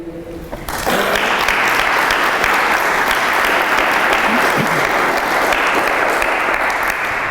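An audience bursts into sustained applause for a sheriff being honored at a public event, a dense, steady wall of clapping that rises sharply after a short pause and carries on loudly.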